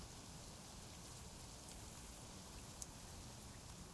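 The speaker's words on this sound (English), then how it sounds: "I'm getting real sick and tired of this rain, though." Steady rain in a hardcore survival video game, a dense even hiss of falling drops with one brief louder tick, heard alone with no talking.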